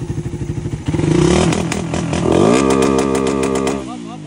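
Motorcycle engine on a stock pipe revving hard during backfire tuning, loud and close, with rising and falling revs, sharp pops and clattering bursts throughout, and a voice briefly audible under the engine.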